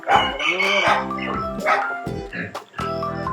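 Chickens on a resort farm in Kulamavu, Idukki, give a string of crowing and clucking calls nearby, with a dog barking in the mix and brief gaps between calls.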